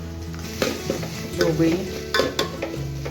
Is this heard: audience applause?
no